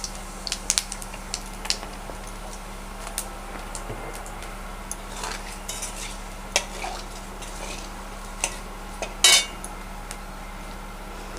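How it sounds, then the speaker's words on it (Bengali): Whole cumin seeds and two bay leaves sizzle in hot oil in a pan, a steady soft frying crackle with scattered pops and occasional clinks of a utensil against the pan. "এবার এই তেলের মধ্যে আমি একটু গোটা জিরে আর দুটো তেজপাতা ফোড়ন দিয়ে দিলাম।"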